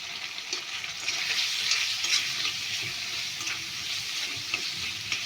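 Spice masala with a little turmeric sautés in a pan, a steady close hiss of frying with soft scraping strokes of a spoon rising and falling.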